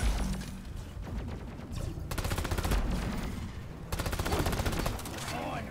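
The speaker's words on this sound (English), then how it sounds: "Gun turret's eating me alive." Gun turret fire in the mining shooter Deep Rock Galactic: rapid, dense bursts of automatic shots crackle in two long stretches, loud and close, over a busy game soundscape with faint voices mixed in.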